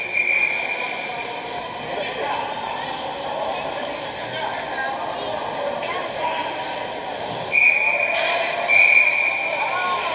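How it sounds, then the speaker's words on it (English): Referee whistle at a high school boys' ice hockey game, two short shrill blasts near the end over steady arena crowd noise and a commentator's ongoing talk. "They blow the whistle again."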